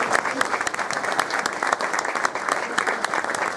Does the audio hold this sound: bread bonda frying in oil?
no